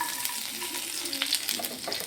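Chopped garlic frying in hot oil in a pan over high heat for egg fried rice, a steady crackling sizzle with stirring and clinks, close and continuous.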